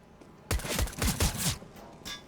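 A quick burst of several rapid gunshots from a CS:GO match, punchy and close, firing in a tight cluster over about a second with a fainter shot trailing after.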